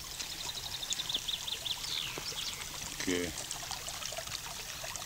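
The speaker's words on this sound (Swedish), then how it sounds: "Vi kan höra vad det rinner någonstans." Water from a roughly five-metre-wide stream running over cobblestones, a steady soft trickling wash with birds chirping faintly nearby and a brief voice.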